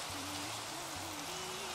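Steady rain hisses without a break in a Minecraft-style video game, fairly quiet, with faint low sustained tones running beneath it.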